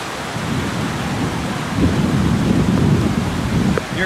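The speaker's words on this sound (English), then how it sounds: "Here comes the rains." Steady hiss of heavy rain beside the Moncton tidal bore river, with a low rumbling undertone that swells partway through, constant and close.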